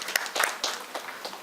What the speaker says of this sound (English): So let us clap for all the panelists and